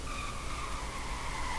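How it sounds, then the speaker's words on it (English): Tire squeal from a 2005 Ford GT Roadster doing a burnout in Roblox Greenville. The screech is steady and sustained, with a rumbling engine underneath and no gaps. "And it does burnouts."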